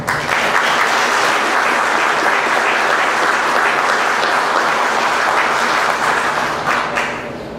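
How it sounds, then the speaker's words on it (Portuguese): Sustained, loud applause from an audience at an engineering panel on renewable and nuclear energy, a dense steady wash of clapping that holds for several seconds and tapers off at the end. "Para quem eu peço uma salva de palmas."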